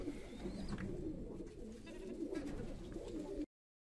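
Domestic pigeons of a smoke-colored breed in a rooftop loft coo steadily, a continuous low throaty warble with soft overlapping calls close by.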